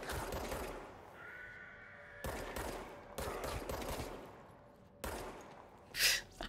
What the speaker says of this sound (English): I'm really bad at shooting even when it's friendly fire